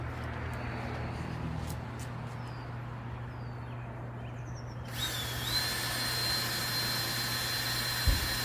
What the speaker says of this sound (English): And then I'm going to screw it in.